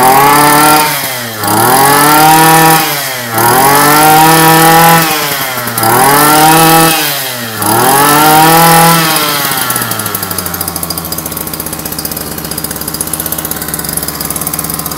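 A small Japanese petrol engine water pump runs loudly nearby, its engine revving up and down in four rising and falling sweeps, then settling into a steadier, lower running note.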